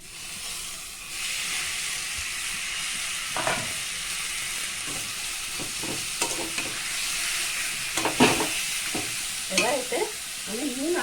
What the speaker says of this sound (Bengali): এবার এতে আমি কচুটা দিয়ে দেবো